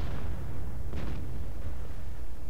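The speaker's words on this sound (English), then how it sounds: "Now he's firing the larger caliber gun." A large-caliber tank gun fires in World of Tanks, giving a single heavy boom near the start, set against continuous engine-like rumble.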